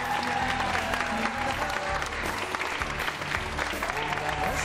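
Audience applause in a Greek television talk-show studio, a steady, moderately faint wash of clapping lasting several seconds, with a tonal hum or background music running underneath.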